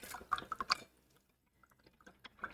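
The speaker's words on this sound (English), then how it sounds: "let's rinse our brush" A paintbrush swished and rinsed in a water cup during an acrylic painting session, a quick burst of small splashes and drips up close, then a quieter stretch with a few faint trickles at the end.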